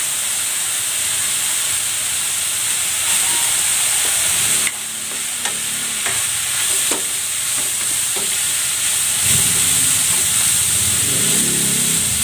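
Carrots and Baguio beans sizzle and fry steadily in a hot pan, with a constant hiss broken by occasional stirring clatters and a louder burst of frying near the end, and no voices.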